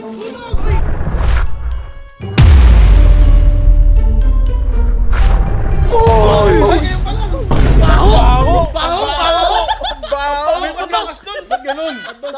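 Loud firecracker blasts go off close by, a sharp bang followed by crackling bursts, while people shout and laugh excitedly throughout.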